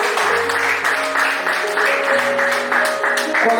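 A church congregation claps together in an offering of applause, dense and steady rhythmic clapping filling the room, fairly loud, with organ or keyboard chords sustained underneath.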